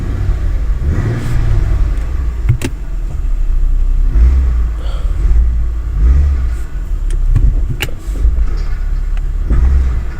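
A Ford vehicle with a Ford BTR four-speed automatic transmission idles in drive and is lightly accelerated during a transmission test, giving a loud, steady low engine rumble with brief knocks and clicks and no talking.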